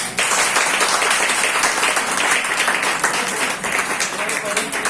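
A crowd breaks into loud, continuous applause, dense clapping sustained at the same level from start to finish.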